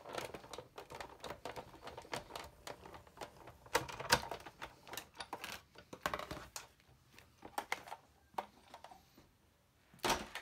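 A die-cutting embossing machine cranks an embossing folder and cutting plate through its rollers, making a quiet run of rapid clicking ratchet ticks and knocks, close and irregular, with no voices.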